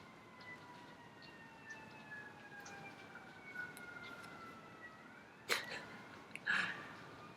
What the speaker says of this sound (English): And I hear a siren.